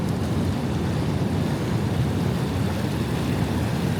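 A small creek flows by the beach at Cape Kiwanda, Oregon, as a steady broadband rush of water, constant and fairly loud with no speech.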